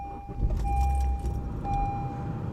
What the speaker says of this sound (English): Okay, I gotta turn the car on.